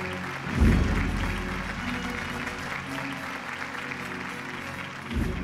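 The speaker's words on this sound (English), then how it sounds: "A big round of applause for the award winners so far" Audience applause for award winners at an Indian infrastructure awards ceremony, a steady broadband clapping roar lasting several seconds, swelling near the start and again at the end over a low musical bed.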